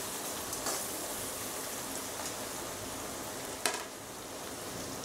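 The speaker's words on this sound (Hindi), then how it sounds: "एक मिनट तक इसको ऐसे अच्छे से हम सौते करेंगे ग्रीन चिली को भी" Green chili sautéing in a pan for veg biryani, a steady, even sizzle with one brief clink partway through and no talking.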